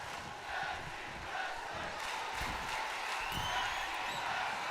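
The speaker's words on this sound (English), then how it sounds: "You hear this crowd chanting tag team wrestling" Roaring wrestling arena crowd from the WWE 2K22 game during an AEW Dynamite tag team match, a steady loud wash of rhythmic chanting and cheering with rising swells, heard alone without spoken words.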